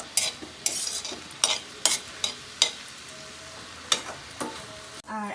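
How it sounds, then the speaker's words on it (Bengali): Spices frying in a pan for a Bengali mixed vegetable dish are stirred with repeated sharp scraping strokes of a spoon against the pan over a soft, steady sizzle, close and fairly clear, with no talk. "আর মশলাটা একটু সামান্য একটু নেড়ে চেড়ে দিব।"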